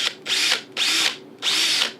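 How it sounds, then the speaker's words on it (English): A power drill bores a hole into a headphone ear cup frame in three short bursts of high whirring, each lasting about half a second with brief pauses between, close and fairly loud. "So what I want to do now is drill a hole and actually run the wire right into the frame behind the foam."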